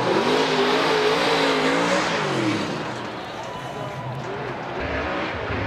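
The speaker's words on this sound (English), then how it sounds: "Forsberg chasing him down into that final clip as Forsberg and nosing around, and Forsberg wraps it around." Formula Drift cars drifting at Long Beach, engines revving and wailing loudly through a corner, with a commentator talking over the continuous roar.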